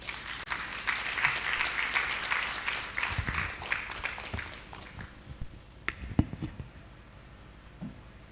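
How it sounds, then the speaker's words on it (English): An audience applauds after a speech at a national extractives dialogue conference in a hotel, the clapping loud and full at first, then thinning into scattered claps as it dies away. "let's give a round of applause once again"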